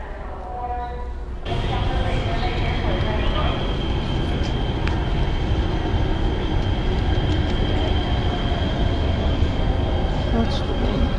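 An out-of-service transit train in Los Angeles at night rumbles loudly past on the rails with a continuous roar and faint metallic clatter; a voice briefly speaks at the start before the noise swells.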